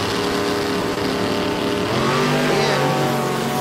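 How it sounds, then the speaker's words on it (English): A drag race car spins its tires hard at launch during a Clash of the Titans event at a motorplex, a loud continuous roaring engine wash with rising tonal whine partway through. "Oh, Pena spinning the tires hard."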